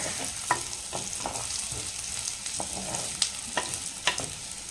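Garlic and onion sautéing in a pan for a village-style panakira greens gravy, giving a continuous close sizzle with light, regular scrapes and taps of a spatula as the pieces are stirred.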